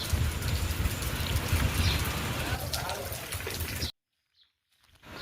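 Steady rain patters continuously for several seconds, then cuts off abruptly into near silence with a faint sound returning at the end.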